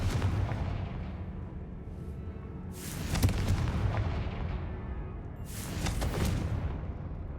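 Explosive blasts from a fire spell cast in a wizard video game, a sustained rumbling backdrop punctuated by two loud bursts about three seconds apart, with no talking.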